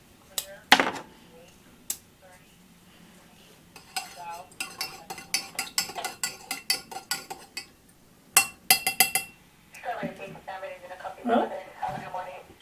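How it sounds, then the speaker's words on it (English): A spoon stirs cold brew coffee in a cup outdoors at a mountain fire lookout, producing bursts of rapid metallic clinking against the cup with pauses between, loud and close. "we'll give it a stir here with this"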